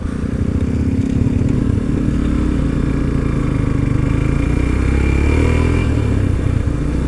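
A motorcycle engine with a badly worn, bald rear tire rumbles loudly and steadily nearby, its low throbbing drone continuous throughout with a faint rattling clatter.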